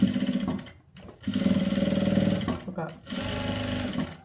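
Sewing machine stitching a blouse, running in three bursts of steady mechanical whirring separated by short pauses, fairly close, with a voice speaking briefly over it.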